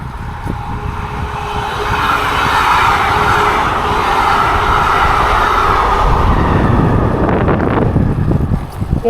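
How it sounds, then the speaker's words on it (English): A train passes close by with a loud, sustained rumble and clatter lasting several seconds, mixed with heavy wind buffeting on the microphone of a moving bike. "There you go, train."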